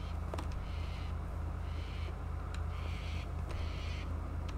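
A crow-like bird call in the video game Resident Evil 7, repeated hoarse cries in an eerie quiet setting over a steady low drone, no talking.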